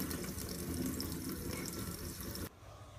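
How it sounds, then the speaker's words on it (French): Cold water runs from a kitchen tap into a sink as a steady, fairly loud splashing stream for about two and a half seconds, then cuts off abruptly, leaving only quiet room noise. "il faut mieux ouvrir le robinet à froid et vider ce qu'on a mis, la quantité d'eau"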